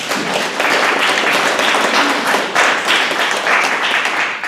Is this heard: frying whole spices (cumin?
no